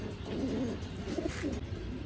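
A pair of racing pigeons, male and female, coo softly and repeatedly at close range, low throaty calls overlapping in a gentle, uneven rhythm.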